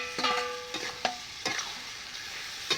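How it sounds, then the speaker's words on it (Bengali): Chicken frying with bottle gourd is stirred in a pan, giving a soft sizzle with several sharp scraping strokes at irregular intervals. "লাউগা দিয়ে লাড়া নেব।"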